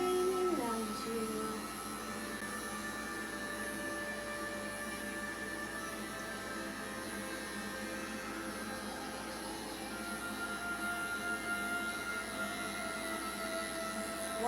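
An electric clipper drones steadily while grooming a dog, lightly grazing the skin, a continuous close buzzing hum that holds level for a long stretch with no talk.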